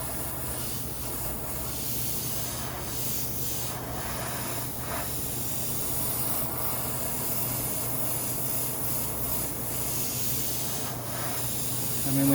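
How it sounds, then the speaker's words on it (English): Airbrush spraying a darker base paint onto a taped-off goalie mask, a steady close hiss of compressed air that runs continuously through the whole stretch, with brief pulses where the spray is triggered harder. "spray your lower darker color"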